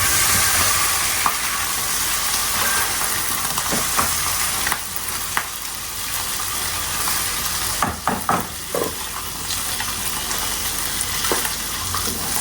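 Fish and meat sizzle steadily in a hot pan, a dense continuous frying hiss with occasional sharper pops and stirring clatters throughout.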